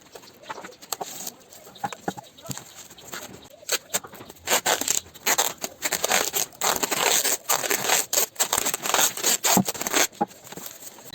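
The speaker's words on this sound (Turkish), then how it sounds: "sabit bir şekilde bantlayacağız." Packing tape is pulled and pressed around a styrofoam box holding soil for cucumber seedlings, producing irregular bursts of sharp ripping and crinkling that grow louder and denser toward the end, with no voices.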